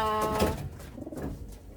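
Fantail pigeons coo in an urban farm loft: a close, throaty coo with a soft, bubbling warble that fades over a couple of seconds, with no voices.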